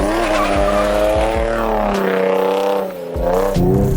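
Car tires squeal loudly and continuously while the car spins donuts, with a wavering, rising and falling howl over a deep engine rumble and no talk.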